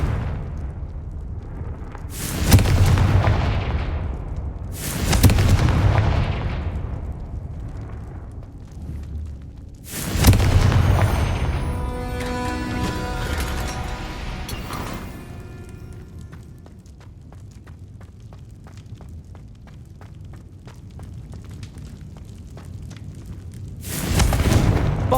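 Spell blasts from the Confringo curse in Hogwarts Legacy boom out in heavy broadband bursts, four loud explosions spaced several seconds apart, one trailing into a crackling, ringing debris tail before the last blast hits.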